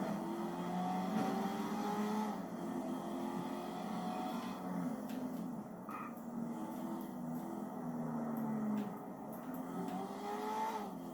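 Video game cars and traffic hum on continuously, with engines rising and falling in pitch as vehicles accelerate and pass, set against a steady background of road noise.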